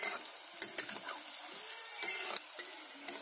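Spinach pakoras turning over in hot oil, a soft steady sizzle with a few light scrapes and clinks of a utensil as they are flipped, close and fairly quiet.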